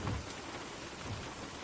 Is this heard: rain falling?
yes